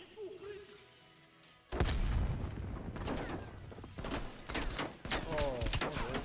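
Grenade blast in a Black Ops Cold War battle: a sudden loud explosion after a quieter stretch, followed by gunfire, crackling debris and voices shouting under the chaos.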